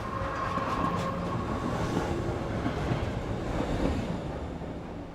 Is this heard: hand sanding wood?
no